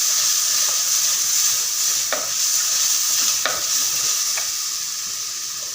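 Sliced onions being sautéed and stirred for a red pomfret curry: a constant loud sizzle from the pan, broken by several distinct spoon scrapes at uneven intervals.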